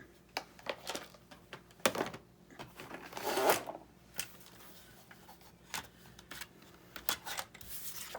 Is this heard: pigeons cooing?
no